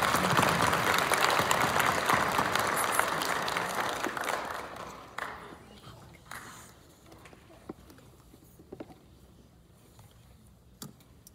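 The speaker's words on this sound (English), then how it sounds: "Give them a big round of applause." An audience at a high school pageant claps loudly and densely at first, then the applause thins out and fades to scattered claps and quiet room noise.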